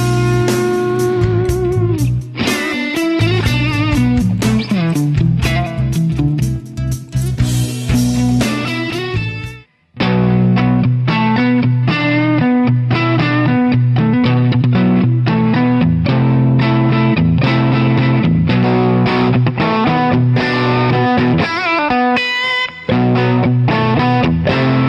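An electric guitar played through a distortion patch shared by the Line 6 community on a multi-effects unit, heavily driven and dense, strums chords continuously and loudly for the whole stretch, with a brief dropout midway and no talking.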